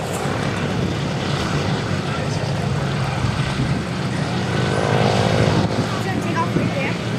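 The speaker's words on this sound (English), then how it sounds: "With one of our C-47s rolling out at Phillips 66 Plaza." C-47 twin-engine propeller airplane rolling out at the 2012 AirVenture Oshkosh airshow, its engines a loud, continuous droning roar that swells slightly as it moves along.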